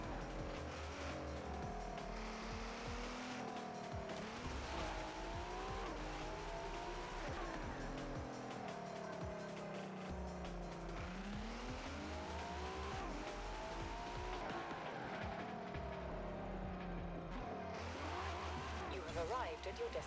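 A Volkswagen car in Forza Horizon 4 drives with a steady, loud engine note that rises and falls with gear changes and throttle, continuous throughout, with someone talking over it.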